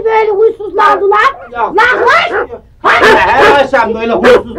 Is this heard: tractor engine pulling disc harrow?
no